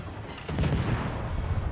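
Warship guns fire in World of Warships, on the Swedish destroyer Halland, with a sudden loud report followed by a heavy, sustained rumble.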